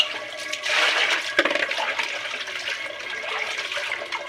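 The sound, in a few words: running water washing goat tripe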